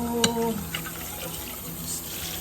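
Water runs and drains from boiled water spinach (kangkung) tipped into a kitchen strainer, a steady close splashing trickle that starts with a brief louder pour and then settles into a continuous wash.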